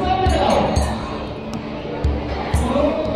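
A crowd of pilgrims murmurs and chatters at the Nandishwar Mahadev temple, a steady near babble with occasional thumps and clinks in the background.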